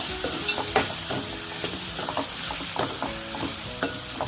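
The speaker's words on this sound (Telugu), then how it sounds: "మొత్తం ఇట్లా కలిపేసేయాలి." Vegetable curry being stirred in a pan, with a spoon scraping and clinking steadily against the metal over a soft sizzle of frying, close and continuous with no talking.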